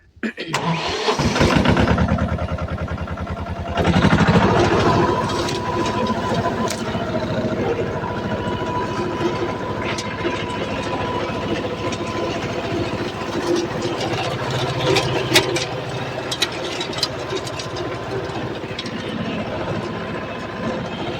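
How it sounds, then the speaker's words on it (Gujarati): A tractor engine cranks and fires, revs loudly for a moment, then settles into a steady, close diesel idle that chugs on for the rest of the clip with small fluctuations. "આપણે ટ્રેક્ટરમાં આવી ગયા છીએ ટ્રેક્ટર ચાલુ કરી નાખવા ફટાફટ"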